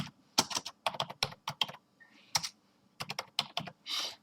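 Typing on a computer keyboard, close and crisp: quick irregular bursts of key clacks with short pauses, ending in a heavier keystroke, and no talk.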